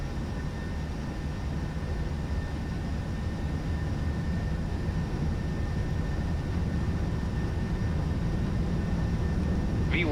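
Airliner engines spooled to takeoff power on a flight-simulator takeoff roll out of Dublin, a constant loud broadband roar holding steady throughout, with a faint thin whine rising near the end.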